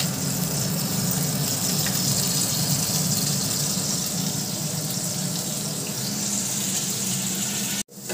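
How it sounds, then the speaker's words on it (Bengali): Whole garam masala frying in hot ghee and oil in a pan, a steady loud hissing sizzle that runs unbroken and close, then cuts off abruptly just before the end, with no talking. "ঘি আর তেলটা একটু গরম হয়ে যাক, এবার দিয়ে দিলাম গোটা গরম মশলা"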